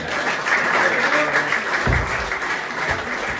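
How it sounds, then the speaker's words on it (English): Audience applauding for school coaches at a year-end event, a steady round of clapping at close range that carries through the whole moment, with some voices mixed in. "So a big round of applause for all of them as well again, please."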